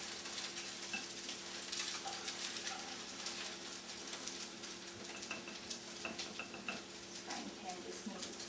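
Potato pancakes sizzle and crackle steadily in hot oil in a frying pan, a dense frying hiss with a faint background hum and occasional small clinks.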